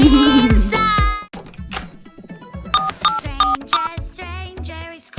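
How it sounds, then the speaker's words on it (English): Phone dialing tones and electronic ringing in a kids' video about a stranger calling, a burst of loud tones at the start, then a series of short tonal beeps and rings with brief gaps. "Stranger is calling my phone."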